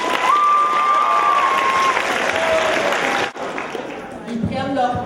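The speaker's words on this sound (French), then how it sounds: "Donc, on peut les applaudir aussi." An audience applauding at a head-shaving charity event, a dense, sustained round of clapping that fills the first few seconds, then thins out as scattered claps and talk take over.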